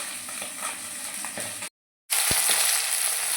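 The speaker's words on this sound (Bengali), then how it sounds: "মাছটা লাল করে ভেজে নিচ্ছি" Amudi fish frying in oil, a steady, close sizzle that cuts out briefly in the middle and then returns just as strong.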